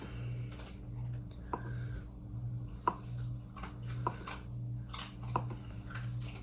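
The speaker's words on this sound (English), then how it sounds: "I'll bring this back over to my cutting board, and I'm just gonna slice it up." A knife chops through tofu on a cutting board with several distinct, evenly spaced knocks against a quiet, humming kitchen background.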